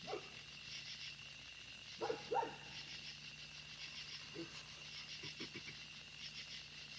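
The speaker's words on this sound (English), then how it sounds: "Yeah, see, that's a dog." A dog barks faintly in the distance, giving a few short barks and yips spread across a quiet, low background hum.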